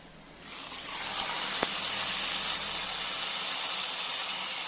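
Kashmiri chilli mixture being poured into mango pulissery: a quiet start swells into a steady, sustained sizzling hiss with one brief click, continuing alone without voices.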